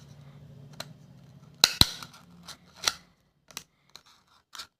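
Scissors snip through plastic while a small flower pot is crafted, a series of sharp, separate close-up clicks and cuts spaced irregularly, with no talking.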